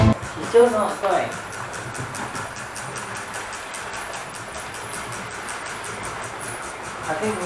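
A model railway locomotive with a faulty motor runs with a steady rattling, clicking drone and a high whine, heard continuously at close range.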